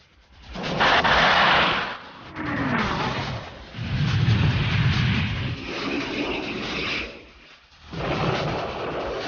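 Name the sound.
fighter interceptors' demonstration missile launches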